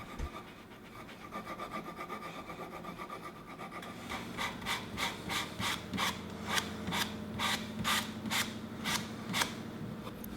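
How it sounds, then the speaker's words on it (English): A coping saw works through the live edge corners of a wood slab, its rasping strokes speeding into a steady, evenly spaced back-and-forth rhythm at close range. "A coping saw worked really nice to make these live edge corners uniform."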